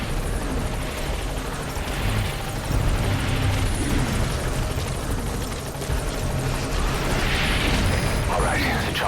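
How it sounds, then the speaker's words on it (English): Helicopter touching down in the video game Metal Gear Solid 5: The Phantom Pain, a loud continuous rotor roar and rumble filling the scene, with voices talking over it. "the chopper's touching down"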